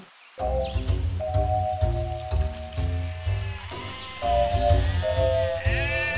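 A sick, old goat on a farm bleats repeatedly through a dense, harmonic-rich stretch, with several overlapping cries of varying pitch, close and fairly loud, no talking.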